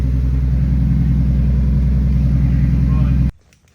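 A Toyota 1.5JZ engine swapped into a Lexus IS300 rumbles loud and close at a steady idle after its first start, then cuts off abruptly near the end.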